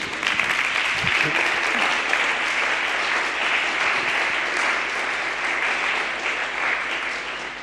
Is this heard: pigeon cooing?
no